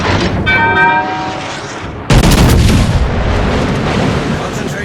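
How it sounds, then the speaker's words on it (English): Warship main guns boom in the naval combat game World of Warships Legends, with one heavy salvo midway after a rising horn-like tone, then sustained loud rumbling battle noise. "Concentrate fire on the designated target."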